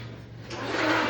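A hotel room door swings open or shut nearby, a short wooden slide and rub that builds into a soft hollow rush, with a low hum underneath.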